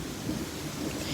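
A severe thunderstorm rumbles with steady rain and low thunder, a dense, continuous wash of storm noise with no voices.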